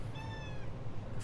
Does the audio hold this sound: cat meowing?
yes